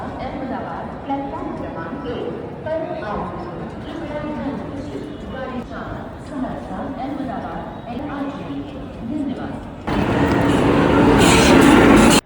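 Busy Mumbai station platform ambience with a train rumbling and clattering nearby on the opposite platform, people chattering in the background, growing louder and harsher toward the end.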